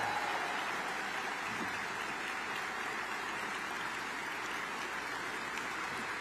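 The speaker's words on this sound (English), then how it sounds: "will you join me in the first round of applause for U.S." Steady, dense applause from a large audience at a tribute event honoring a U.S. senator's career, a continuous wash of many hands clapping, heard from a distance and holding an even level throughout.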